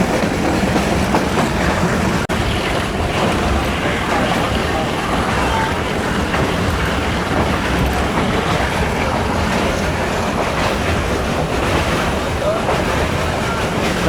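Jand shuttle train rumbling steadily uphill along mountain tracks, a dense continuous roar of wheels and carriages with faint clickety-clack, loud and close throughout.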